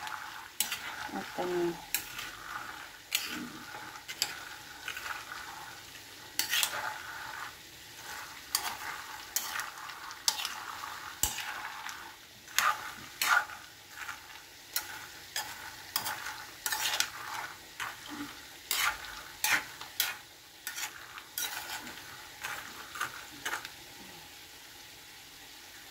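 Peanuts and garlic fry in a pan under constant stirring, a quiet steady sizzle overlaid by repeated sharp spatula clacks against the metal, with a brief spoken word.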